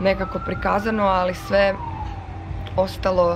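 Fire engine sirens wail along a Melbourne street during hot summer bushfire season, a rising and falling tone drifting under continuous nearby speech.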